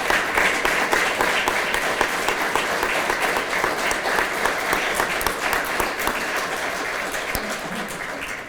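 Audience applause at a Veterans Day 2019 event: continuous, dense clapping from many hands, fairly close and even in loudness for several seconds, tapering slightly at the end.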